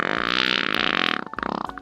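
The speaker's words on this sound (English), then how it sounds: "an unexpected fart saves the day" A loud, drawn-out cartoon fart in Family Guy, a sustained raspy buzz lasting about a second that breaks into a few short sputtering bursts at the end, with no voices over it.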